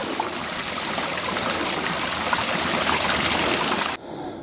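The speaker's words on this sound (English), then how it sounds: "Still passing lots of gorgeous little mini waterfall features." Small mountain stream and little waterfalls in Madeira, a loud continuous rushing and splashing of water up close that cuts off abruptly near the end, with no talk.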